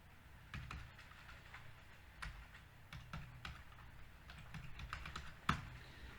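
Keys clack on a computer keyboard as a date is typed into a Microsoft Word document, irregular close taps in short bursts with one sharper stroke near the end, no voices.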